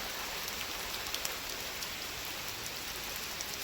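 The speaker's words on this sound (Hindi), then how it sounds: "अब बारिश ही बहुत ज़्यादा हो रही है" Heavy rain falls without a break, a dense, loud, steady hiss of drops hitting surfaces close by, with no voices over it.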